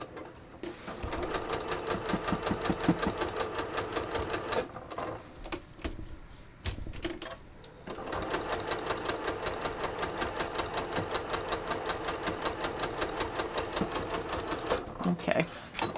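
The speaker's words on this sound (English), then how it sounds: "I'm just going to let it stitch." A sewing machine stitches leggings with Seraflex thread in fast, even runs, pausing briefly midway before resuming, close and clear, with a person talking over it.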